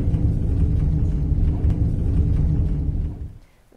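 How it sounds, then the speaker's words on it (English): Deep, low rumbling from a SpaceX rocket engine testing facility west of Waco rolls steadily for a few seconds, then fades quickly at the end. "That was the sound of some rumbling there."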